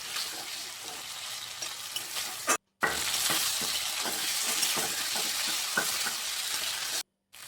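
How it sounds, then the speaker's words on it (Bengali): Singi fish frying in a pan with steady, loud sizzling and crackle while being flipped and turned, with scraping stir strokes; two brief silent gaps break the sound. "আমি মাছগুলোকে উল্টে পাল্টে ভালো করে ভেজে নিচ্ছি"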